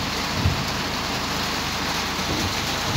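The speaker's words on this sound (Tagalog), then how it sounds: "Isang linggo na nag-uulan." Heavy rain pours continuously during a downpour in Riyadh, heard from inside a car as a dense, even roar of drops drumming on the roof.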